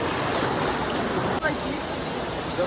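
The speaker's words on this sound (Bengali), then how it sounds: "স্রোত।" A flowing water stream in Sylhet, a steady broadband rush that stays constant and fairly loud with no break.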